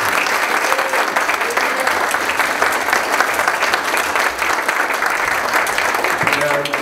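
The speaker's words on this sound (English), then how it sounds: "How about a round of applause?" Audience applause at a municipal advisory council candidate forum, steady dense clapping filling the whole stretch with a faint voice or two underneath.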